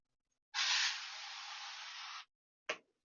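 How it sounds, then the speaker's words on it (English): Cooking oil sprayed over potatoes in a single steady hiss of about two seconds, followed by a brief short puff, close and clear in a quiet kitchen. "So I'll give them another spray as well on top of them."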